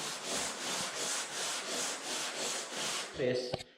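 Sanding block rubbed over primer on a car body panel in cross motions, rhythmic scratchy strokes repeating about every third of a second, close and steady, then stopping with a couple of short knocks.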